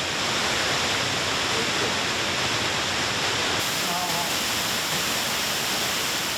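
A large waterfall in Guizhou, China, about 74 m high and 110 m wide, gives a steady, loud, broadband roar of falling water that continues unbroken throughout.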